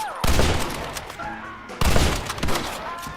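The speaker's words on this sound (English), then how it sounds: "Open fire!" Bursts of heavy gunfire in the video game Red Dead Redemption come in two loud clusters of rapid overlapping shots with booming echoes, close and dense.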